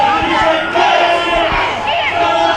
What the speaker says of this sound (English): Crowd are going wild behind us.